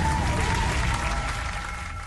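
Applause from a large crowd rolls on as a dense, continuous wash of clapping that eases off slightly toward the end.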